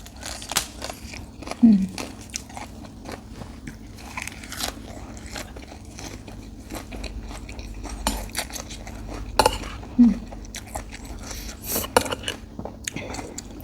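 Spicy papaya salad with pickled crab and soft rice noodles is eaten close up, with crunchy bites, chewing and cutlery clinking on dishes in irregular bursts while someone talks now and then.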